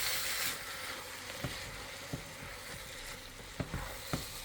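Eggs sizzle softly in a pan for Singaporean fried rice, a constant faint frying hiss broken by a few scattered light knocks of a utensil as they are stirred.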